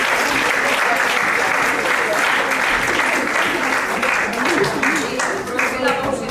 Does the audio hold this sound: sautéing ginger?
no